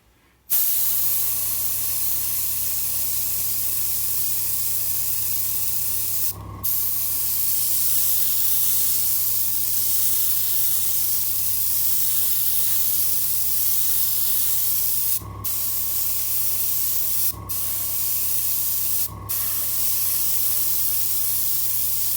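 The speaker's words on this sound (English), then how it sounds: "And for the red panels, I'm using Vallejo Model Colour Red, and it just thins down a bit for the airbrush." An airbrush sprays thinned Vallejo Model Colour Red paint onto a Revell Star Wars Venator-class Star Destroyer model in a steady close hiss, with a few brief breaks where the trigger is released before spraying resumes.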